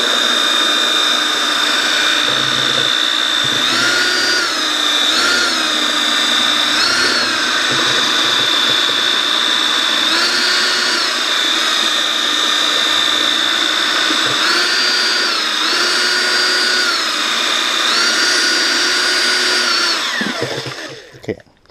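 An electric drill spins a metal paint-mixer paddle through water and shredded paper in a bucket to make pulp for worm bin bedding. It gives a loud, continuous high whine that repeatedly dips and rises in pitch as the load shifts, then cuts off abruptly at the end.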